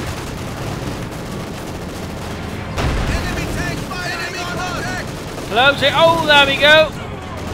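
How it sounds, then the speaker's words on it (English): Machine gun fire and battle noise in the Company of Heroes 2 strategy game as a machine gun targets a field gun crew, steady rattling bursts under a loud war din, with someone talking over it. "Machine gunning the field gun crew rather viciously."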